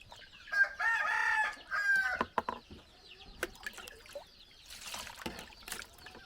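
A rooster crows loudly near the start, followed by scattered clucking and soft clucks from chickens nearby.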